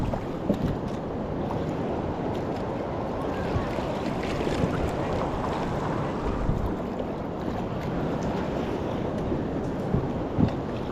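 Sea waves churn and slosh steadily around a boat at sea, a dense continuous rush mixed with wind buffeting the microphone, with a few small knocks and splashes close by.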